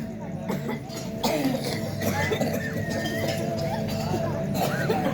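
A few rough coughs break out amid muffled talking, close by and moderately loud.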